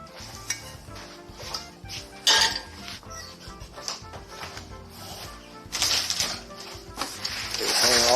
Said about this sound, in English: So I generally hand wash this guy.